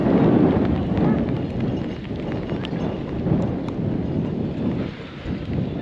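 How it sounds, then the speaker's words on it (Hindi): Steady heavy rain pours in the mountains at Auli, with low rumbling thunder rolling underneath, loud and continuous throughout. "बारिश हो रही है"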